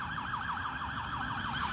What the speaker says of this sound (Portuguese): Olha a ambulância.